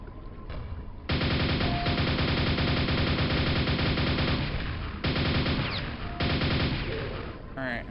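Dense, continuous gunfire blazes in the retro-style shooter Pak Attack, a loud sustained barrage with brief gaps between long volleys.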